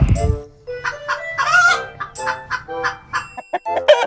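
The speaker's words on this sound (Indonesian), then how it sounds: "jadi suara ribut ayam betina ini bahasa kerennya disebut dengan" A hen cackles its noisy egg song after laying, a run of loud, uneven squawks and clucks repeating close up over about four seconds, with a brief low rumble at the very start.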